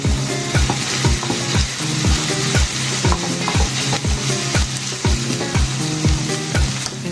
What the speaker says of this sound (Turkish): sürekli karıştırarak kıymamı kavurmaya devam ediyorum